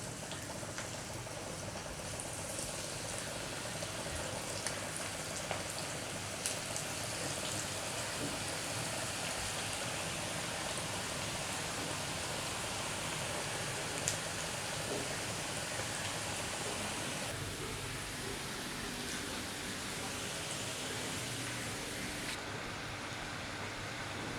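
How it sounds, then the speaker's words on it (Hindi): Onion pakoras (kanda bhaji) slipping into hot oil in a home kitchen, giving a steady, dense sizzle and bubbling hiss that runs evenly throughout without pause. "बस यही पॉइंट पे हमें पकोड़े डालने हैं।"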